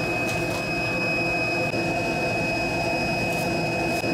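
A vacuum sucks air out of a foam cushion wrapped in plastic, making a continuous, loud, broadband roar that holds steady throughout with a faint whine on top.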